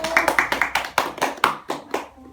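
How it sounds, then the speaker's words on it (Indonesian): A small class claps for a presentation group during a microteaching session, a sparse run of about a dozen distinct, close hand claps in an uneven rhythm that trails off. "tepuk tangan buat kelompok 1"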